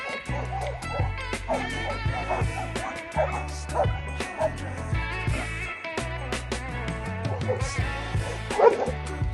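Several dogs yelp and bark insistently, in a rapid, overlapping chorus, along a road in South America while a motorcycle engine drones steadily beneath them.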